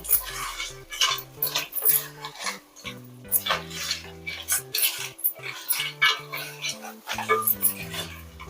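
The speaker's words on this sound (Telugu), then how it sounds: "మసాలా అంతా పీతలకి బాగా పట్టేలాగా కలుపుకోవాలి." Crab pieces stirred into masala in a pot for crab biryani, a run of close metallic scrapes and clinks from a spoon against the pot, irregular and steady, with no talk.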